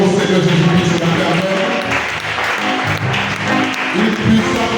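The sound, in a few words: church congregation applauding and cheering for God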